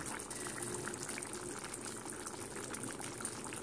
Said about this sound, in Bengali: দেখো এটা ফুটছে